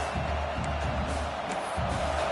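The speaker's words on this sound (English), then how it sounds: "This crowd bringing the energy and noise early." A constant roar of a large stadium crowd in an NCAA college football video game, LSU vs Georgia, broad and steady, with faint cheers rising now and then from the distance.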